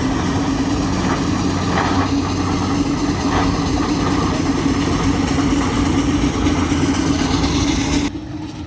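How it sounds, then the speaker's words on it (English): Steam engine tractor pulling a sled down the track at a tractor pull during a county fall folk festival; a steady, loud low engine chug and rumble runs throughout, easing off at the very end. "going down the track as a steam engine"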